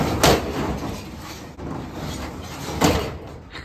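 A jammed storage unit door is forced open, with two heavy bangs of impact and a scraping, rattling metal rumble between them, loud and close.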